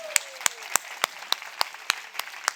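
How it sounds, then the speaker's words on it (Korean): A congregation at a Korean church thanksgiving service for pastors' wives claps in unison, giving glory to God: about nine sharp, evenly spaced claps at a brisk steady beat, with no voices over them. "자, 이런 교회를 주신 하나님께 영광의 박수 올리게 되겠습니다."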